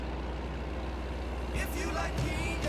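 Stock truck engine sound from a truck simulator video game, a steady low diesel drone throughout with a brief hiss and chirps near the end, with a voice speaking over it.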